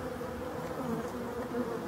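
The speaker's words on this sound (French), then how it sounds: "Donc voilà, c'est les abeilles d'hiver. La grande sortie." Winter honeybees streaming out of a hive in a mass exit flight at the end of the season, a steady, dense buzzing hum of many bees close by, with no voices.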